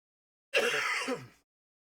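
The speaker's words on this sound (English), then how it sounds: "I'm coughing a lot today." One short, harsh cough, close and fairly quiet, with silence before and after.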